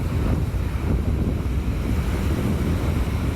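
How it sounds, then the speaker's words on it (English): Steady wind blowing outdoors beside a river on a cool day, a continuous low rumbling roar of buffeting gusts across the microphone, with no voices. "Got a little bit of wind."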